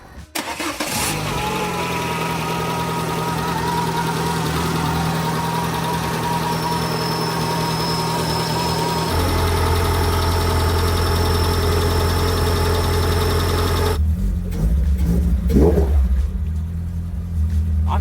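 Repaired car engine, just back together after a thermostat fix, cranks and catches, then settles into a steady loud idle with a deep rumble that grows heavier partway through and stays running to the end, with no talking.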